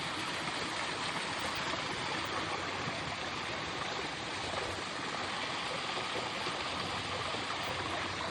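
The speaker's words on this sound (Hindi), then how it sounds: "ये पानी की जो आवाज़ थी वो बिल्कुल मेरे रूम के सामने थी" Steady rushing stream water flows just outside a forest resort room in Kumbhalgarh, a continuous broadband wash of moving water, close and even throughout with no voices.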